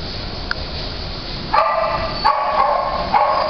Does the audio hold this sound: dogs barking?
yes